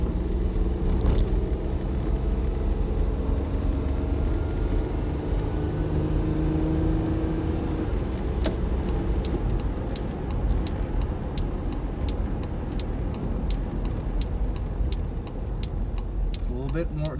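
A second-generation Toyota 4Runner on a test drive gives a steady road rumble and engine hum, with a clunk and then a rapid ticking toward the end, while someone talks over it.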